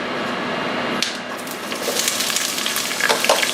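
Light cooking oil heats toward smoking in a pan, giving a steady close hiss and sizzle with a few faint crackles and no talk.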